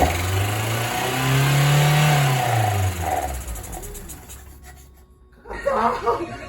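A Mazda NA Roadster engine fitted with OER 45mm racing carburetors cranks, catches and revs up hard with a rising roar, then settles and drops as a voice speaks briefly near the end.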